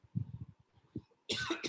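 A harsh, loud cough bursts out near the end of a short stretch of low murmuring at a live evening storytelling and music event.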